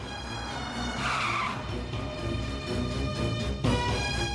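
A jeep pulling away with tyres skidding and squealing over a rumbling engine, loud and close, with a sharp screech early and another jolt near the end.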